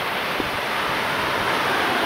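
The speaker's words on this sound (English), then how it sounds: "There's the ocean in front of us." Ocean waves roll in at night as a constant, full-bodied rushing roar with no breaks or distinct crashes.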